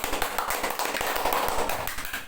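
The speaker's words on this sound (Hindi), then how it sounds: "तो हम चाहेंगे एक बार हमारे सवेरा सर के लिए ताली जोरदार बजा दीजिए" An audience claps for a teacher arriving at a gathering, a brisk run of hand claps with a sharp, close, tapping quality, steady and loud over a couple of seconds.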